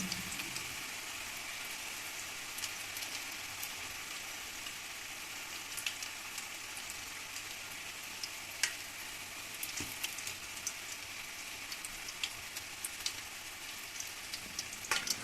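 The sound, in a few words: lavash frying in hot oil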